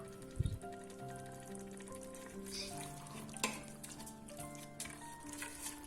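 Meat sautéing in a tomato paste sauce in a pan for a dry bean dish: a soft, steady sizzle runs throughout, with a few utensil knocks, and no voices.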